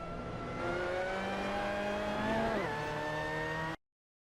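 Simulated Mazda MX-5 Cup race car in Assetto Corsa at Portimao, engine note climbing steadily under power with a brief dip around a shift or lift, then pulling on, loud and close without talk.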